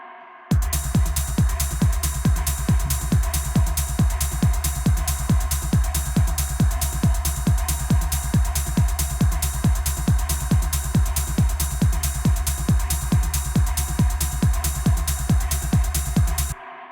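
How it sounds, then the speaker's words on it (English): A repeating low synth stab pulses in a steady, fast techno rhythm, loud and punchy, looping without pause for the whole stretch. "Now I'm just EQing this sort of low stab here."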